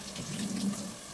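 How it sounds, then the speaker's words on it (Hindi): Tap water runs steadily into a home kitchen sink while dishes from tea are washed, a short, close, continuous splashing stream with no voices. "तो यहाँ पे थोड़े से बर्तन थे चाय पानी की, तो वो भी मैं साफ़ कर लूँगी"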